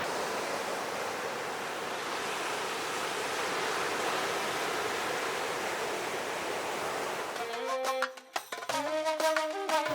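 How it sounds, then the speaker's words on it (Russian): Surf on a wild, empty Moroccan beach under fog, broad steady wave wash filling most of the stretch, then abruptly cut off near the end by a brief burst of sharp, tonal clatter. "Океан, как всегда, хорош."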